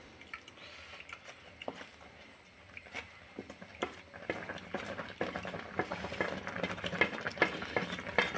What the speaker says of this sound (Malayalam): അരിപ്പൊടി ചേർത്ത് കുറച്ച് ഇളക്കുക.